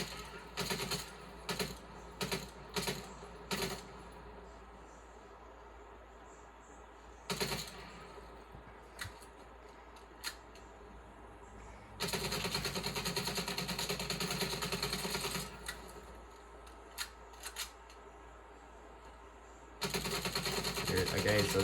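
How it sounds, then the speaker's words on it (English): The Milano submachine gun gets a full reload in Call of Duty: Black Ops Cold War: sharp metallic clicks and clacks of magazine and bolt, then bursts of rapid gunfire, with spoken commentary around them. "Okay, so that was the full reload."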